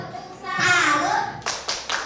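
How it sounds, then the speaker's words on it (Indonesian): A talk show audience joins in a rhythmic salute clap for a guest, with a chanting voice followed by three short, sharp bursts of group clapping close by. "Berikan tepuk salut untuk Ibu Ulfa"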